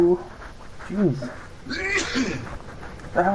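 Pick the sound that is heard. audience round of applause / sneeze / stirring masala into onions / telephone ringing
sneeze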